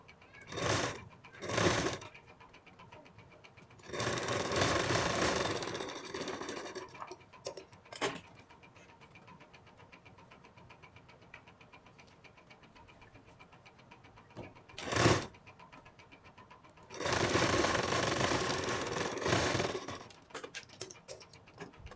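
A sewing machine stitches a blouse in several short bursts of fast mechanical whirring, with quiet pauses between runs in a calm room.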